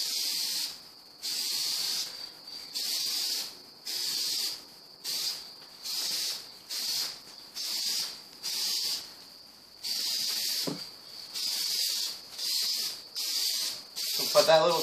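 A spray gun lays a light dust coat of paint on a car bumper cover in short hissing bursts, roughly a dozen evenly spaced passes with brief gaps between them, close and fairly loud.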